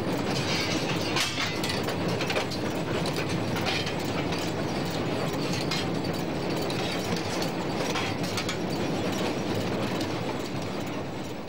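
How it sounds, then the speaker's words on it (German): Steam locomotive 38-205 runs straight through Oelsnitz station on double track, a loud, continuous roar of wheels and running gear with rhythmic rail clatter and mechanical rattling, close and steady throughout. "Und so kann 38-205 den Bahnhof Oelsnitz durchfahren, ohne eine Kreuzung abwarten zu müssen."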